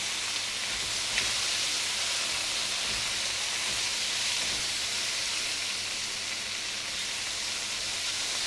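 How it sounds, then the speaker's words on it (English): A steady, close sizzle of chicken frying in a hot pan, continuous hissing with faint occasional pops underneath. "I can really hear that it's frying a lot"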